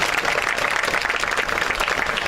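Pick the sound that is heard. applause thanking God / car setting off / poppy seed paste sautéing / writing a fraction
applause thanking God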